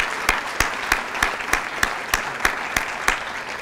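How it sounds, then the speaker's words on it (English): Audience applause at an annual water conference, a full steady crowd clapping with a regular recurring louder clap cutting through about three times a second, sustained and fairly loud. "Let's have a round of applause for all of our presenters today."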